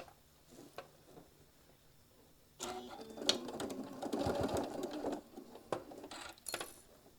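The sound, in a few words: sewing machine stitching a quarter-inch seam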